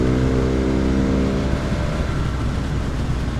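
Motorcycle engine pulling hard as the rider opens the throttle out of a bend, a loud steady roar with a rising, revving tone throughout and no talk over it.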